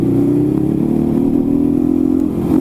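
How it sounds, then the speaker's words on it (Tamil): A Rajdoot 350 motorcycle, restored to showroom condition, rumbles steadily while being ridden on an open road, its loud, close exhaust note a continuous low throb with no talking. "எக்ஸாஸ்ட் நோட்டு வந்து உங்களுக்கு நல்லா கேட்கும்னு நினைக்கிறேன் வண்டியை பொறுத்த வரைக்கும்"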